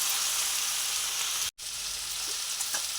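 Ivy gourd (dondakaya) fries in a pan with a loud, steady hiss and sizzle, broken by a brief silent gap and faint scraping of stirring, with no talk.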